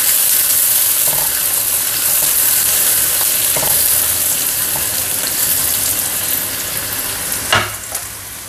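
Onions sizzle steadily while frying in a pan for a Rayalaseema uggani breakfast, a constant close hiss broken by a few soft stirring clicks and a sharper clatter near the end.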